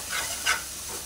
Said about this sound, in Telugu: తగినంత కారం వేసుకుని బాగా కలుపుకొని మూత పెట్టుకోవాలి.